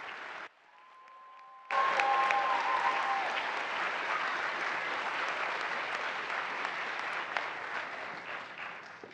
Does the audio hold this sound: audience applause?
yes